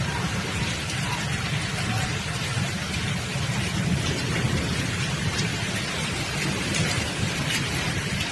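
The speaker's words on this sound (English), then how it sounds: "This hail storm. This is hail, guys." Dense, steady hail and rain pounding a street during a storm in Italy, a continuous loud broadband roar with constant rumble underneath and no breaks.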